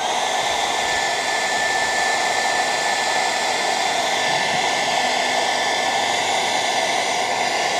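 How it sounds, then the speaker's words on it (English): A hairdryer runs flat out at full power, drawing around 2000 watts from an AllPowers S2000 Pro solar power station, giving a loud, steady, close whoosh of airflow and motor whine that continues unbroken with no voices. "if we wang this hairdryer up to full power,"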